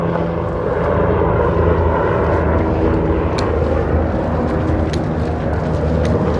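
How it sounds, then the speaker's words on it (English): A helicopter flying over the East River near the Brooklyn Bridge in New York, a loud continuous engine and rotor drone that fills the whole moment with outdoor ambience. "And there's another helicopter."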